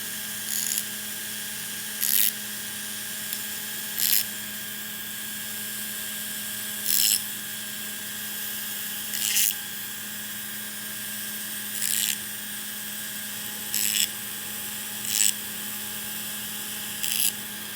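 Dremel rotary tool grinding a pocket knife blade to cut a deployment hole, heard as short, high-pitched whining bursts repeated every second or two over a steady background hum.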